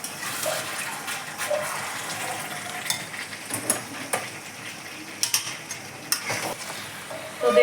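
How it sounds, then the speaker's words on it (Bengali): Mutton being stir-fried slowly in a pot for Bengali kosha, a close, steady sizzle broken by irregular scrapes and knocks of a spoon against the metal, with no talking. "দেখুন মাংসটা প্রায় কষে এসেছে আর একটু কষবে"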